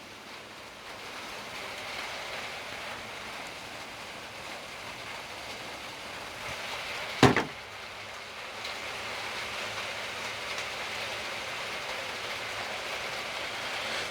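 Rain falling outside during warm weather, a steady, even hiss that holds for the whole stretch at moderate level, broken once near the middle by a single short sharp knock.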